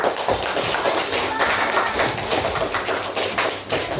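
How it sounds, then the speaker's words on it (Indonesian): A classroom of elementary school pupils and teachers breaks into applause, dense, rapid hand clapping close and loud for several seconds, with voices mixed in. "Berikan tepuk tangan dulu."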